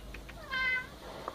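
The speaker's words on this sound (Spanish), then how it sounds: "Ahí ya está hablando mi gato" A house cat meows once, a short clear call close to the microphone, standing out against a quiet indoor background.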